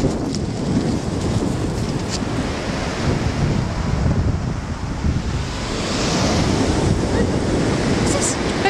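Steady rushing surf of ocean waves at the seaside, broad and continuous, with some wind noise buffeting the microphone.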